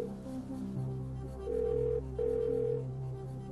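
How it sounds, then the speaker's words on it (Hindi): An Airtel phone ringtone plays a short melodic tune of sustained electronic notes, moderately loud over a low background hum. "एयरटेल की धुन बजाइए।"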